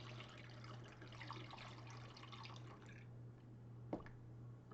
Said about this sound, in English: just dump our 20 ounces of lemon juice straight in